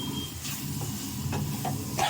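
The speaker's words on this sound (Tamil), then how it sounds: "இன்னும் மஞ்சத்தூள் மிளகாத்தூள் போட்டு நல்லா வதக்குங்க." Onion masala with turmeric and chili powder sautés in a pan for a fish curry, giving a soft, steady sizzle. Occasional scraping strokes from stirring sound close by, with no talk.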